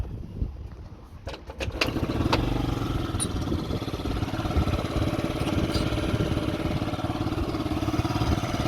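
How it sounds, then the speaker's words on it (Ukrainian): A few sharp mechanical clacks of a kick-start, then a small Yamaha Jog SA36 scooter engine catches and settles into a steady, close, buzzing idle. "Зараз перевіримо кікстартер."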